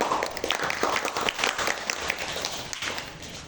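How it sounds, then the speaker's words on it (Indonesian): A classroom group applauds a statistics team during guided teaching practice, a steady patter of many hands clapping together at moderate loudness for several seconds. "Beri aplaus kepada kelompok statistika"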